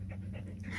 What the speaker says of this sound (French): Je suis en forêt, en balade avec mon chien, donc si vous l'entendez